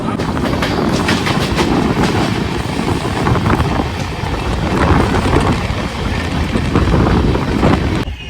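A Jalpaiguri–Sealdah Humsafar Express train rumbles loudly and continuously as it enters Sealdah station, with rattling wheels and wind buffeting the microphone as it rolls along.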